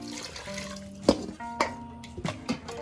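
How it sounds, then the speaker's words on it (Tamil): Water splashes into a cooking pot of goat head curry masala, with a few sharp clinks and drips of liquid hitting metal over a low background hiss, close and fairly quiet. "தேவையான அளவு தண்ணி ஊற்றிக்கலாம்"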